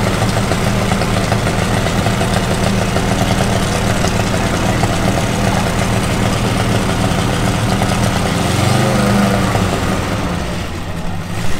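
A sports car engine at a Monaco supercar event runs continuously up close with a loud, dense rumble that swells briefly toward the end before fading slightly, with no one speaking over it.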